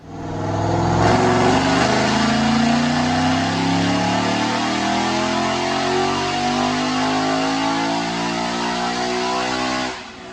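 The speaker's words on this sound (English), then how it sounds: "Check out the dyno pull." A 2017 Ford Mustang GT with an automatic transmission and a Roush Phase 2 supercharger, running on 100-octane fuel, makes a full dyno pull. The engine roars loudly and climbs steadily in pitch for about nine seconds, then cuts off abruptly.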